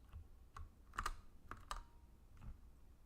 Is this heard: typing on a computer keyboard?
yes